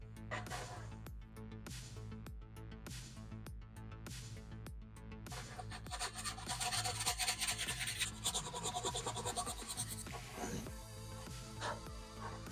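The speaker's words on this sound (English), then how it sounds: "then we're going to hit this with its next round of sanding" Rhythmic back-and-forth rasping of sandpaper on wood filler, faint and close, with a steady stroke pattern that turns into quicker, busier scrubbing partway through.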